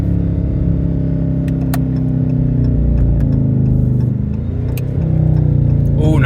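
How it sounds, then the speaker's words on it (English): Steady engine drone with a faint intake whine from a car cruising along, holding a fairly even level with small swells as the driver eases on and off the throttle, close and continuous. "she whines a little bit with the intake"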